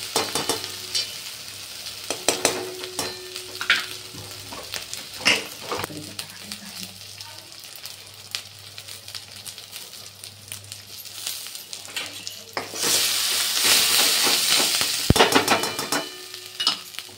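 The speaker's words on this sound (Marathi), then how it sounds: "लाल तिखट टाकलं, तेल सुटतं. आता आपल्याला छान फ्राय करायचं आहे." Red chili powder and grated coconut frying in oil for a Maharashtrian tarri pohe topping, a steady close sizzle broken by repeated scraping stirs and spoon clinks, swelling into a louder, hissing burst near the end.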